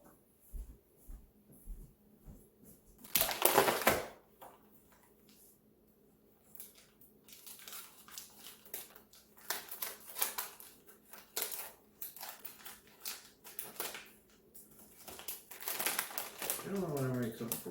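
Someone cuts open a new plastic package of store-bought roasted turkey breast, making crinkling plastic rustles and a few snipping, tearing bursts at close range, with a louder crackle early on and intermittent handling noises throughout.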